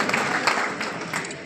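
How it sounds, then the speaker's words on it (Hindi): An audience at a cooperative bank's annual general meeting in a private resort claps in a dense, steady burst of applause, loud and continuous throughout. "एक बार जोरदार तालियां इस पूरी टीम, सभी अभिभावक उन बच्चों के लिए"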